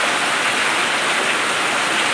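Heavy rain pours down without pause, a loud, dense, unbroken rush with no voices.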